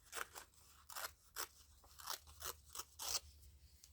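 Brittle coloured paper torn from a teen novel gives a string of crisp, crackling rips in short bursts, close and fairly quiet, with no talking.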